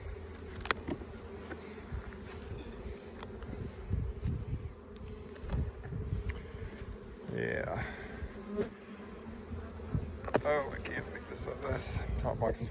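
Honey bees from a strong hive at a farm buzz busily in front of the hive entrance, a dense, continuous drone with individual bees passing close by, while a person talks quietly underneath.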